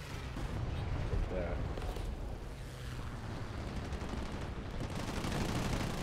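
Tank cannon and machine-gun fire in the War Thunder video game, a dense continuous barrage of heavy booms and rattling bursts sustained loudly throughout with no pauses.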